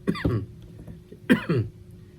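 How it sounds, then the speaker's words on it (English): Two short, rough coughs close by, separated by about a second of quiet, each with a throaty burst and a second pulse, brought on by seasoning salt. "Just saying salt's making me cough."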